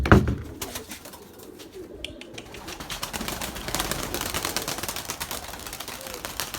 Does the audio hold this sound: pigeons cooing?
yes